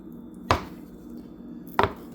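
Two sharp knife chops through Land O'Lakes salted butter on a cutting board, spaced over a second apart, close and crisp against a quiet background.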